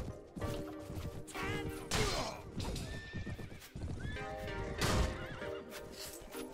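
A horse in the Mount and Blade Warband video game gives loud, shrill neighs over rapid galloping hoofbeats and clashing combat sounds, with repeated whinnies rising and falling close by.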